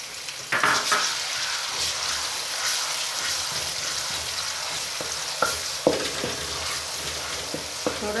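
Garlic ginger paste goes into browned onions in a pan for aloo matar, a steady bright sizzle with scattered stirring scrapes and utensil clinks against the pot.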